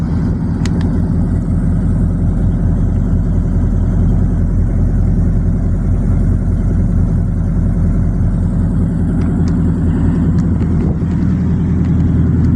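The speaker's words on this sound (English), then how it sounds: "y'all hear the difference in the exhaust?" A car engine idles loudly through its exhaust, fitted with two catalytic converters, giving a deep, steady, pulsing rumble close by for the whole stretch with no talking.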